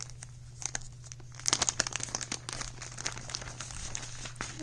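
Quiet crinkling and rustling of plastic packaging as a small 9 by 9 piece of 32-count Belfast linen in colonial parchment is unwrapped, close by, in irregular bursts that are busiest near the middle.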